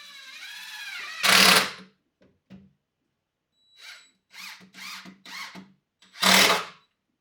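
Bursts of a power drill whirring as screws are driven in to mount drawers on a workshop workbench, two longer loud runs and several short quick pulses with quiet pauses between.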